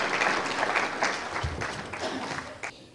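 An audience claps for actor Dev Kharoud, a short burst of applause from a seated crowd that builds, then fades near the end, with a voice over it.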